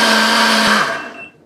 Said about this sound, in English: We're just going to go ahead and hit the blend button 2 times.